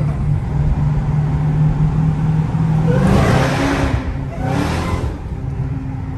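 A 2022 Dodge Challenger Hellcat Redeye accelerates hard from inside the car, a loud steady engine drone with a supercharger whine building through two surges, no talk.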